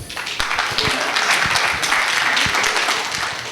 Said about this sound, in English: a very thunderous applause for Mahendra ji for giving such a nice presentation